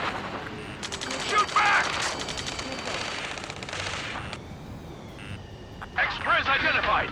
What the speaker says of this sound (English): Return fire! Sierra 2, hold position! We're cut off! Missile. Missile. Taking fire! We're pinned down!